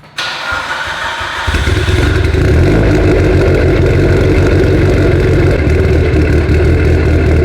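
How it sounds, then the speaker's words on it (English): After a brief starter crank, a Mitsubishi Lancer Evolution IX engine running on ethanol fires up loudly from cold and settles into a rough, steady idle with a deep, lumpy rumble. "Let's see how the cold start is."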